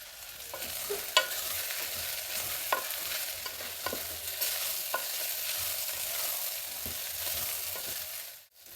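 Semolina (rava) roasting in hot tempering oil in a pan for rava khichdi, with a steady close sizzle and scattered scraping clicks from a spoon stirring throughout, briefly dropping away near the end.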